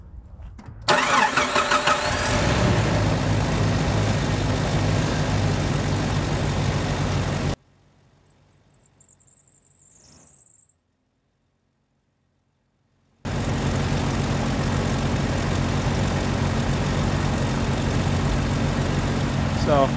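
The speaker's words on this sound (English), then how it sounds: "we'll give it a start and we'll see if she has any leaks" A Jeep Wrangler YJ engine cranks and catches after a fresh valve cover gasket replacement, then idles loudly and steadily; the sound drops out for several seconds midway before the idle resumes.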